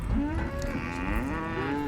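Cattle lowing loudly and continuously during a ranch round-up for vaccination, one drawn-out moo sliding into the next over a busy outdoor background.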